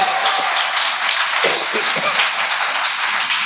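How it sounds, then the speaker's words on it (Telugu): A church congregation at a gospel meeting in Perecherla breaks into loud, dense, steady applause, with many hands clapping continuously throughout. "కొడు చప్పట్ల గట్టిగా"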